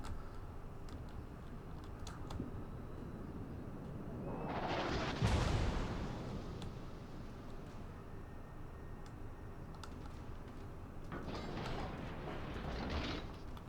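Secondary guns on the Izmail battleship firing in the naval video game World of Warships: a loud, rumbling broadside burst in the middle and a second, softer volley near the end, over a constant mechanical game hum.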